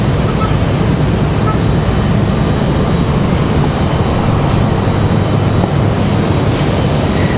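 A Copa Airlines airliner from Panama City sends loud, steady broadband jet roar across the whole stretch at an airport, a continuous rumble with no distinct pauses.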